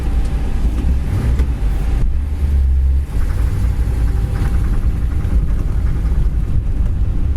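A 1958 Ford Retractable pulls away on icy roads, its engine a low steady rumble heard close from inside the car with some wind buffeting and a brief dip in the noise as it moves off.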